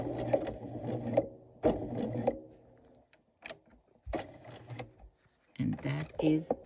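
A sewing machine stitches fabric for a quilt in short, rapid bursts, running for about a second at a time with brief pauses between runs, close and clear.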